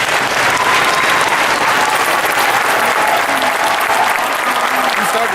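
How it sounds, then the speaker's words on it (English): A convention-panel audience at Phoenix Comic-Con claps steadily for about five seconds, a dense, even wash of hands with faint crowd murmur and no clear single voice. "You started slow clap."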